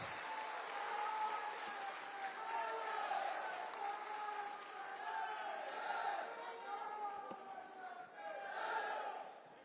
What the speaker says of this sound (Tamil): now let us welcome our chief guest, Honorable Union Minister of Parliament Affairs, Sri Pralhad Joshi G அவர்களை அன்போடு மிக கைத்தட்டலோடு நம்ம வரவேற்கின்றோம்.